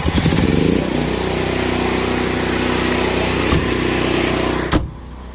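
An RV generator runs with a steady, loud engine drone and exhaust rumble coming through an open back door, holding even for several seconds before a sharp knock and a drop to a quieter hum.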